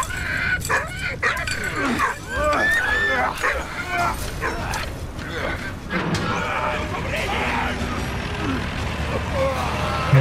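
Dog barking in the World War I video game Valiant Hearts, several short yips and barks mixed with game sounds and talk throughout.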